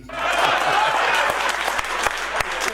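An audience at a Hindi poetry recitation claps steadily, a dense burst of applause that stays loud and then thins into scattered claps toward the end.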